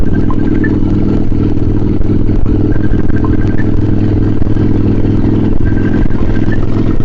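Yamaha Virago 535 motorcycle fitted with Black Widow drag pipes, a loud, steady, low rumbling engine drone while riding, close and continuous with some clatter and no voices.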